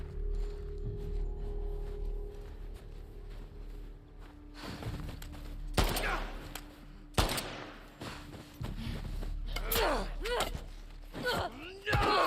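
Gunfire in The Last of Us Part II: a few sharp, loud shots ring out with echoing tails amid game ambience, footsteps and rustling, and a voice is heard early on.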